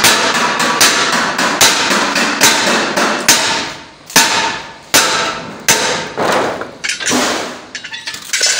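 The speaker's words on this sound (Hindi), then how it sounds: "ये देखिए ये बड़े लकड़ी के हथौड़े के साथ ट्रंक पेटियों के गोले बन रहे हैं" A large wooden mallet pounding sheet metal into rounds for metal trunk boxes in a workshop, loud, close, evenly spaced heavy blows repeating about once every half second to second.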